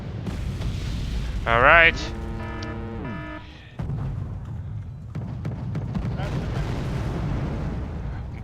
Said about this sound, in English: These guys need to stop firing artillery around those tanks.